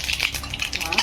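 Cumin seeds hitting hot oil in a pan for a brinjal masala, giving a brief, close crackling sizzle with light stirring scrapes.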